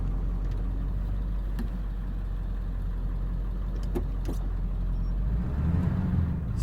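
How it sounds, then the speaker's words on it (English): A vehicle being driven in four-wheel drive along an icy track past a ranch gate gives a steady, close engine drone that deepens slightly toward the end, heard alone without talk. "I'm gonna put it 4-wheel drive."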